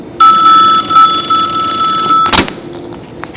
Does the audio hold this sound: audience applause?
no